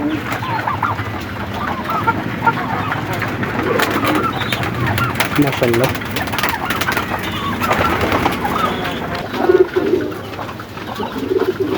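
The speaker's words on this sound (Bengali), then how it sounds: "এই দেখেন কবুতর বাবু সুন্দর করে খাচ্ছে ক্ষুধার্ত কবুতরগুলো" Hungry pigeons feeding in the morning, with busy cooing and soft clucking bird sounds close by and brief speech over them.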